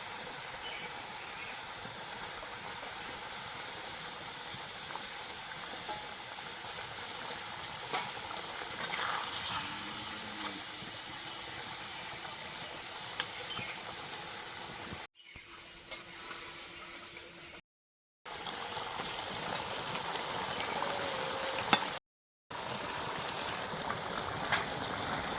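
Piranha fish curry masala sizzles and simmers in a pan in a steady, faint bubbling hiss that continues with brief breaks.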